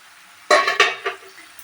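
Potatoes being sautéed in a pan, with a few quick scraping stirs and a soft sizzle, close and brief, no talk.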